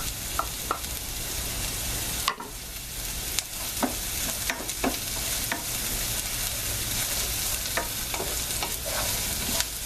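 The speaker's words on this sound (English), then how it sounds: "Let's add the onions" Onions sizzle in extra grease alongside nearly done potatoes in a pan for a hearty breakfast, a steady close frying hiss broken by sharp scrapes and taps of a stirring utensil throughout.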